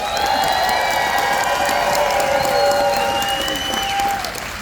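Studio audience at a celebrity game show applauding and cheering, a steady loud wash of clapping with whoops and shouts throughout, easing slightly at the end.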